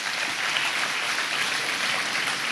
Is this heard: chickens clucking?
no